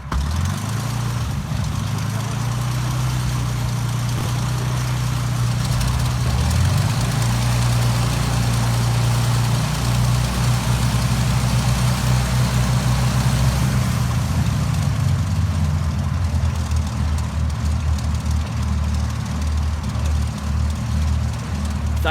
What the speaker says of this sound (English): That was the sound of a de Havilland Mosquito starting up.